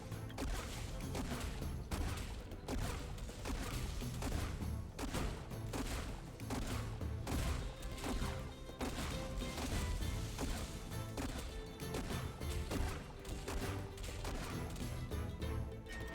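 Rapid volleys of booming cannon shots fire in a continuous barrage with crashes in the video game Skylanders: Spyro's Adventure, loud and sustained throughout.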